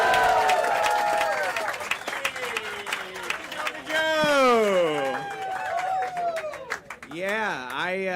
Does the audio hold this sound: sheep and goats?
no